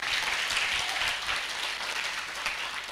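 A crowd claps in steady, even applause throughout, a full, moderately loud wash of many hands at a gathering with no voices over it.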